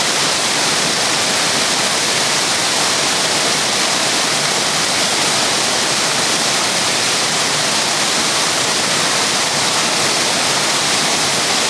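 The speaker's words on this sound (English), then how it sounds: "Standing on top of Panther Falls" Panther Falls, an 80-foot waterfall heard from the top, a loud constant broadband roar of falling water that stays even throughout, with no one speaking.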